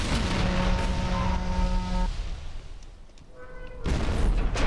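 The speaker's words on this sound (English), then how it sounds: "The explosions!" Explosions and heavy gunfire-like booms from the video game ELEX, loud and continuous with tonal game sounds layered over a dense rumbling bed throughout.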